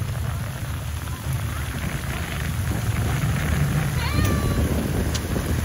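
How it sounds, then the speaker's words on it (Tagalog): Steady, heavy rain pours down with a dense hiss, and a cat meows briefly near the end over the downpour. "Ang lakas ng ulan."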